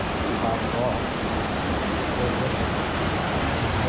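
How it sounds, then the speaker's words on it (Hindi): Small waterfall in North Goa, cold water flowing down from above, producing a steady, broadband rushing roar that stays even and close throughout with no breaks. "तो पानी का जो फ्लो है वो बहुत ही ठंडा है ऊपर से पानी आ रहा है"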